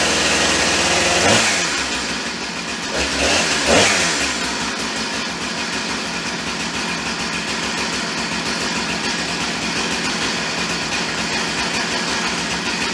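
A Husqvarna chainsaw, half-choked, catches after a couple of pull-start tugs, then settles into a loud, continuous close-up engine drone.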